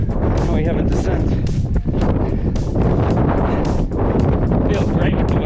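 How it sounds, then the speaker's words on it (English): Strong wind buffeting a microphone on a sunny hilltop hiking trail, a loud continuous roar with gusty surges throughout. "Feels great with the wind."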